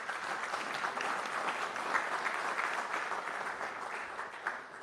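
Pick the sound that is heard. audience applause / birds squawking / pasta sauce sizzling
audience applause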